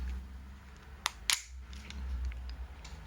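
The slide of an ICS BLE gas blowback airsoft pistol racked back one-handed with the magazine still inserted, giving two short, sharp metallic clacks close by against a low background hum.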